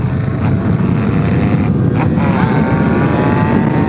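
Motorcycle riding past on a street with a steady, loud engine drone and wind noise throughout, with a rising engine tone in the second half.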